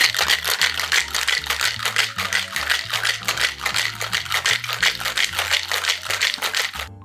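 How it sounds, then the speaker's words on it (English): A cocktail shaker filled with Cosmopolitan ingredients and ice rattles hard and fast in a steady rhythm, loud and close, for several seconds without pause. "Now shake it well for at least 30 seconds."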